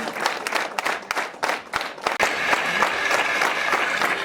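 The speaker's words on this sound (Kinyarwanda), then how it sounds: "Amashyi menshi cyane." Sustained applause from a wedding crowd, many hands clapping in dense bursts that swell and settle, with a brief murmur of voices and cheering mixed in.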